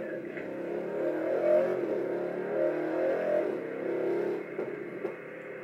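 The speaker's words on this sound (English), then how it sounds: "I would give it a little gas on the downshift, and you'll really hear that V8." A Mercedes C63 V8 on the autobahn pulls steadily under acceleration, a continuous engine drone that rises and dips through several seconds, heard from inside the cabin with no talk over it.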